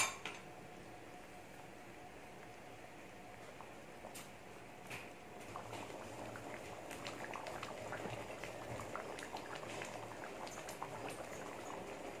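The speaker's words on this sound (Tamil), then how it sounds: "நண்டு குழம்பு நல்லா கொதிச்சு ரெடி ஆயிடுச்சு." Crab curry, nandu kulambu, bubbles steadily in a pot with a soft, continuous simmering fizz and a few light clinks of utensils, quiet and close.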